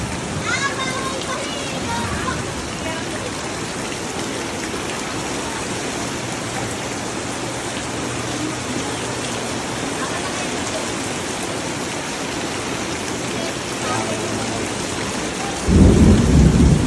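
Heavy rain pours steadily throughout, with low rumbles of thunder rolling underneath and a loud crack of thunder near the end; a voice is faintly heard.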